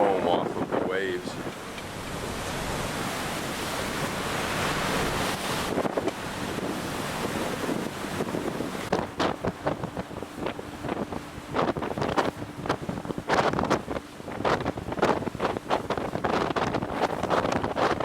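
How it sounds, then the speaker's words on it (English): Strong wind buffets the microphone over rolling ocean waves and surf off Cape Horn, heard from the side walkway of a cruise ship; a steady roar with occasional wave splashes, under a faint murmur of voices. "you get a sense of the wind that's blowing out here, because once in a while a wave will hit it"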